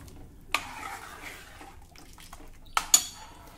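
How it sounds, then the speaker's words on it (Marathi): A raw mango kadhi is stirred in a pot, with a few sharp metallic clinks of a spoon against the rim and soft liquid swishing in between, close and alone. "आणि हे सतत ढवळत राहायचं आहे।"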